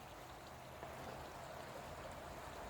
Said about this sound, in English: This is the river that I shower in.